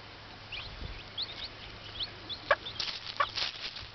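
A hen with her chicks on their first trip out of the nest box scratches around on the ground, giving soft intermittent clucks over light scratching patter, with high thin peeps between.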